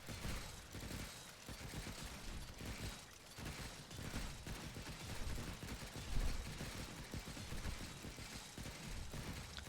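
Gunfire in the sci-fi survival game Stranded: Alien Dawn, a quiet, dense stream of rapid shots and bursts layered with mechanical clatter, continuing throughout without pause.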